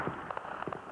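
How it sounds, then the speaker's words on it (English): Faint, distant bursts of machine gun, cannon and mortar fire as police and army units advance on a village, a few dull thuds and pops in quick succession over a low background. "Machine gun, cannon and mortar fire mark the police advance."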